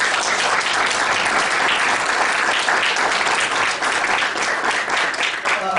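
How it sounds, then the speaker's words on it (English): Loud, sustained audience applause at a Richmond city council candidate forum hosted by the League of Women Voters, a thick wash of clapping that holds steady throughout. "I'd like to ask our audience for a round of applause for everyone here today."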